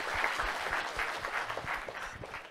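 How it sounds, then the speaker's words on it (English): A round of applause from a lecture audience after a talk on entity search, quiet and somewhat distant, with separate claps blurring into a soft, steady patter. "Can we have a round of applause"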